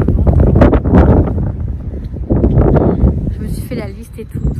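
Gusts of wind buffet the microphone outdoors on a December day, rumbling and rough beneath someone speaking almost continuously, with a few brief lulls.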